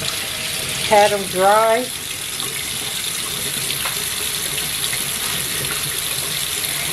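Water runs steadily from a kitchen tap as meat is rinsed, with a low, constant splashing rush. A voice speaks briefly near the start.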